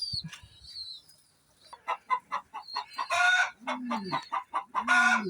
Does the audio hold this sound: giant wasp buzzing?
no